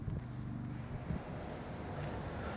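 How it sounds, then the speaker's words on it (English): Cold wind rushes steadily across the microphone outdoors, a low constant buffeting roar at moderate level with no clear gusts. "Sure is windy though."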